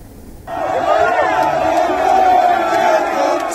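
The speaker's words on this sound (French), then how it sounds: "Il a été ovationné par une foule immense." A large crowd cheers and roars in ovation for a national deputy at his residence, the noise bursting in after a brief lull and holding loud and sustained to the end.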